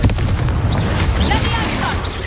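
Confringo fire spell exploding in the Hogwarts Legacy video game, a dense booming burst with crackling debris, loud and sustained over about two seconds.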